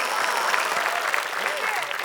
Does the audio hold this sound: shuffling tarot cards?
no